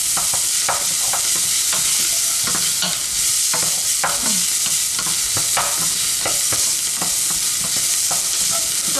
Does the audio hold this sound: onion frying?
yes